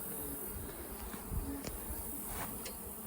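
Honey bees in a hive hum in a dense, steady buzz, a close and continuous insect drone with faint clicks and movement and no talk.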